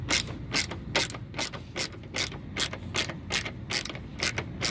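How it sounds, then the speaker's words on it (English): A ratchet fitted with a 10mm socket clicks as it loosens a headlight bolt on a Ford F150, with about a dozen crisp, evenly spaced ratcheting strokes heard up close. "the 10mm socket fit this, so I'm gonna use that and loosen this up"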